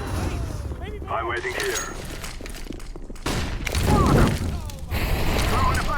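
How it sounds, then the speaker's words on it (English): Grenade explosion in a first-person shooter game: a broad, heavy blast rumbling for about a second amid rapid gunfire and clatter, with a player talking over it. "You do love to see that Grenade!"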